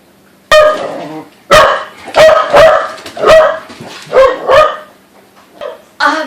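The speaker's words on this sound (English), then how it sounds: "Freaking dog." A dog barks in a kitchen during cookie baking, a series of sharp, loud barks close by, roughly eight or nine in uneven bursts with short pauses between them.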